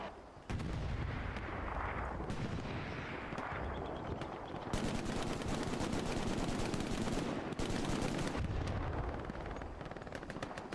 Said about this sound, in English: That artillery's been devastating as well.